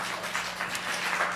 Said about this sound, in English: Don't you think that we need to give them a round of applause?